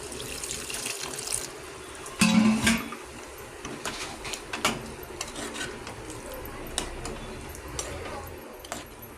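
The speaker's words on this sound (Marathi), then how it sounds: "आणि त्याच्यामध्ये एक गिलास पाणी टाकायचं" A glass of water pours into a spicy cauliflower, pea and potato curry in a pan, a short splashing gush followed by bubbling and light stirring noises.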